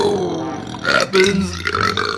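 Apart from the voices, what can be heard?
man burping after chugging Coca-Cola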